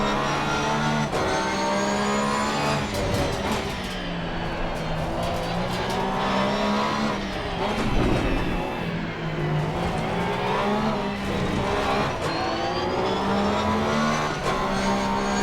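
A 2018 Porsche race car engine in Assetto Corsa Competizione at Barcelona drones loudly and continuously, its pitch rising and falling through gear changes while running close behind another factory Porsche, with brief tire squeal.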